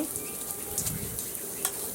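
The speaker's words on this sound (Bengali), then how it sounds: "এগুলো আমি মুচমুচে করে ভাজছি।" Ash gourd leaves frying in a pan until crisp: a continuous near crackle and sizzle, with a few brighter pops and faint stirring touches, and no talk.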